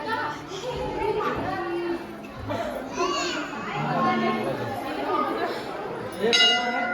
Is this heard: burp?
no